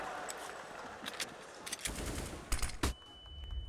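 Gunfire in a Counter-Strike showmatch: scattered sharp rifle shots crack out in short bursts, with a few louder close reports near the end, over a quiet game background.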